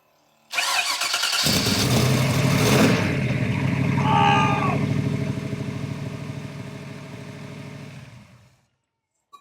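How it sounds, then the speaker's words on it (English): A Shelby Cobra replica's engine cranks briefly with a whirring starter, then catches and settles into a loud, steady, throaty idle close by for several seconds before cutting off. "Crank the car."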